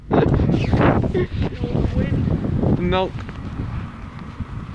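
Gusty wind buffets the microphone outdoors as a red fast-food straw is blown about, the rumble running under steady talking from several people.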